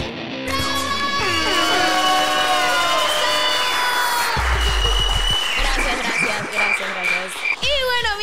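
Crowd applause and cheering greet a guest on a podcast, mixed with loud sliding whistle-like electronic tones and croaking sound effects.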